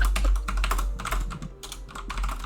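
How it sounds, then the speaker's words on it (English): Rapid clattering keystrokes on a loud computer keyboard, close and clear, come in uneven bursts with brief pauses between flurries of typing. "Let me type very loudly on my loud keyboard."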